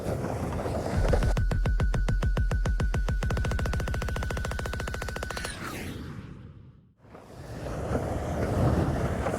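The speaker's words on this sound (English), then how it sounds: "gusting definitely more than 30 knots right now" Strong wind gusting over 30 knots at a windsurfing spot buffets the microphone in heavy, rumbling gusts with rapid fluttering flaps, easing briefly to near quiet before roaring back.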